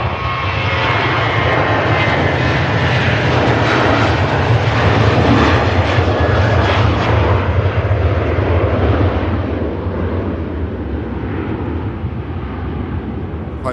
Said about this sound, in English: Ryanair on the roll. Steady takeoff roll this as well, no rush.